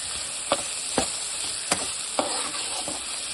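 Egg fried rice mixture cooking in oil with black pepper powder, a soft continuous sizzle broken by a few sharp spatula scrapes and taps against the pan, moderately quiet and close, no voices.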